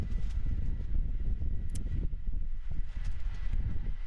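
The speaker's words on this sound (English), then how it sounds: "Big gusts of wind around." Gusts of wind buffet the microphone at an outdoor cricket match, a steady low rumbling roar that swells and dips for several seconds with no voices.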